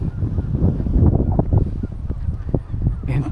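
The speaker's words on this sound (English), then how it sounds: "Oh, look at all the seabirds waiting for me to leave, perhaps." Seabirds call in a dense, low, honking clamour on a small gravelly island, a continuous noisy throng heard close with some wind.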